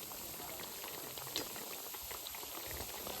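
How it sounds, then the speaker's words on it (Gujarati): Pakoras deep frying in a pan of hot oil, a dense steady sizzling and bubbling hiss that stays close and continuous, with no voices. "પકોડા તળવાનું અહીંયા શરૂ થઈ ગયું છે."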